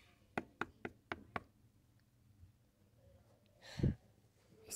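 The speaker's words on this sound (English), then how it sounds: "Just heard a knock." Five quick knocks on a door come in a rapid, even run, fairly faint, followed after a pause by a single heavier thump in an otherwise quiet room.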